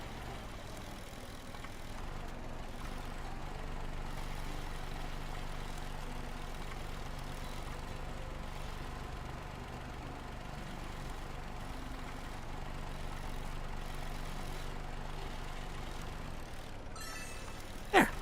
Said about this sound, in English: This mower is loud.